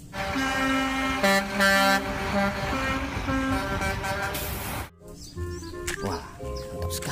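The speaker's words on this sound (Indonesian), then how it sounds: "Ini mobil truk molen teman-teman." A toy cement mixer truck plays electronic horn toots and jingle-like tones, loud and close, cutting off abruptly before quieter beeps resume, with a voice talking over it.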